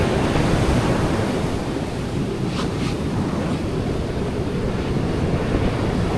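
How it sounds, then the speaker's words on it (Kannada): Ocean waves break on a Kerala beach at night, a loud, steady roar of surf and wind-buffeted air that fills the whole stretch without pause. "ಫ್ರೆಂಡ್ಸ್ ನೋಡ್ಬೋದು ನೀವು ಇಲ್ಲಿ ಅಲೆಗಳು ಹೆಂಗೆ ಬರ್ತಾ ಇದೆ ಅಂತ"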